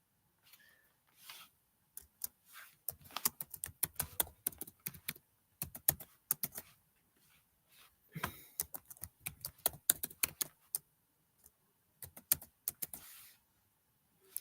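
Someone types an administrator password on a computer keyboard in quiet, irregular bursts of crisp, close key clicks, with short gaps and one longer pause midway, and no voice over it.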